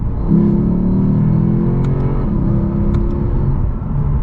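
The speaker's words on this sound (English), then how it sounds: "We're going to downshift a little bit more here." Engine of a 2020 Lexus RC F Track Edition droning loudly and steadily, with a deep rumble and shifting revs through a downshift, continuous and close throughout.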